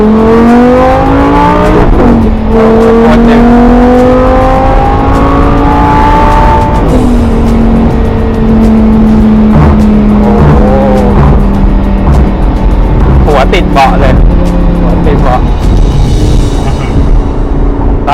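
Lamborghini Gallardo LP560-4 from 2008 accelerating hard in sport mode, its loud close engine climbing through the revs with clear gear-change drops and a brief tire squeal, steady and unbroken across the run.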